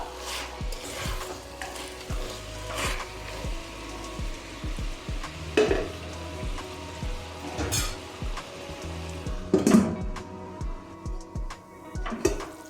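Tomato slices frying and softening in chicken curry in a pan, with steady sizzling under repeated stirring and clinks of a spoon against the pot, close and moderately loud throughout.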